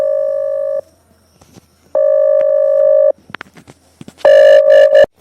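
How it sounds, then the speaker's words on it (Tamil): A telephone ringing in a home, steady electronic ring tones in three separate bursts with pauses between, the last louder and mixed with clattering sounds. "ஐஸ் தான் ஃபோன் பண்ணுதா?"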